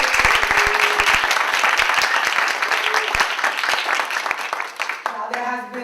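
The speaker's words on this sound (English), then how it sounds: "Can we get a round of applause?" An audience at a diversity and research conference breaks into dense, loud applause, many hands clapping rapidly for several seconds before it thins out and a voice comes in at the end.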